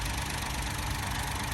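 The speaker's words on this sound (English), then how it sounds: "Normally aspirated petrol engine, no hybrid in sight." Normally aspirated 72 bhp Toyota Aygo X petrol engine idling, a steady low hum and faint rumble held evenly throughout, with no talking.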